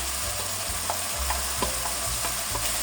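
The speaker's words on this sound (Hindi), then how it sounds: "अब मैं इसमें डाल देता हूँ भिंडियाँ।" Okra (lady finger) frying in a spiced masala, a constant close sizzle with repeated scraping stirs and faint spoon taps at an even rhythm.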